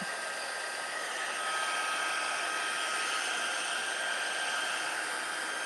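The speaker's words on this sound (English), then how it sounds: "Let my heat gun heat up here just for a minute." A steady, loud blowing hiss with a faint whine, continuous and unchanging from start to finish, no voices.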